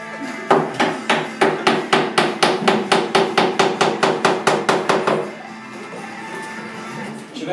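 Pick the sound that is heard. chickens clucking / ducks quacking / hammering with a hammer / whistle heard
hammering with a hammer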